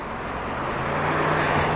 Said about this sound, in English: There's another car, look out for him